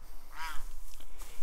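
Ducks honking and quacking nearby, one with a hurt hip among them, a short cluster of nasal calls over a low background hum.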